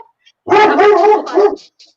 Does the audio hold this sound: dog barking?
yes